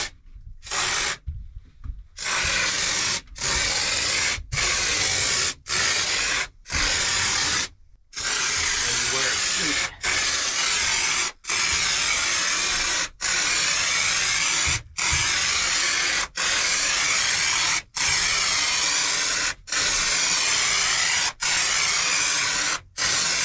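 A DIY spray foam kit sprays foam in a loud, steady, broadband hiss that runs almost continuously, broken by brief, regular gaps where the trigger is released.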